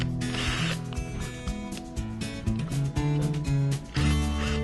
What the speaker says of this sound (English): I'm now going to create holes on the cap, which in essence will suck water in the bottle, and that is why multiple holes are needed